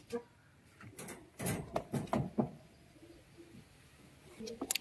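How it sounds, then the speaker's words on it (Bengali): A single male Naphta, a desi flying pigeon, gives a short burst of low, throaty coos close by, then goes quiet apart from faint rustling. "একটা সিঙ্গেল ন্যাপতা ভাঙানো নর পায়রা"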